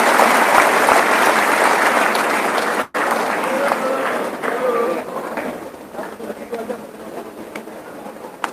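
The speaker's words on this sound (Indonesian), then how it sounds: "Tepuk tangan semua Bapak-bapak Ibu sekalian" Audience applause at an outdoor Indonesian gathering, dense clapping that briefly cuts out, then resumes and thins out gradually, with crowd murmur and voices mixed in.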